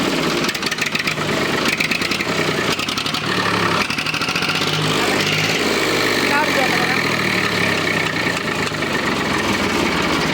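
A tractor engine fitted with a silencer runs steadily at idle with a muffled, even rumble, while a person speaks briefly over it.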